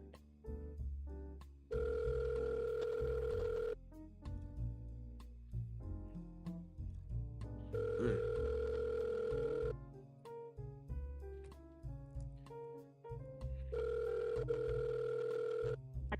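A phone ringing before being forwarded to voicemail, three long steady electronic ring tones, each about two seconds, separated by gaps of faint background music.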